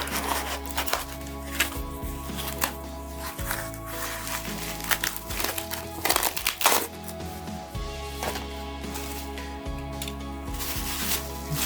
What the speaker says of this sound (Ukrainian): Ми зараз його обережно підріжемо. Цей скотч.